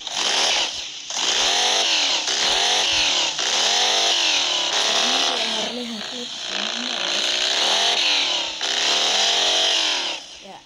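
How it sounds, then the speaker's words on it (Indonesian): An 1800 cc V-twin motorcycle engine is revved hard in repeated bursts, snarling up and falling back over about ten seconds with brief dips between blips, loud and close. "1800 cc V twin. Mungkin ini suaranya kayak Harley Davidson ya guys, mungkin."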